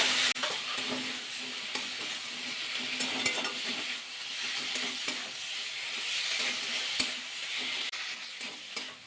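Cauliflower pieces frying in oil with spice masala, a continuous hiss of sizzling with occasional soft scrapes of stirring, moderately loud and steady throughout.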